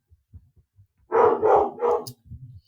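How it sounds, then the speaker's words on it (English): A burst of three quick, loud barks from excited puppies stirred up by someone outside, following a few soft thumps and yips. "Hear those silly puppies."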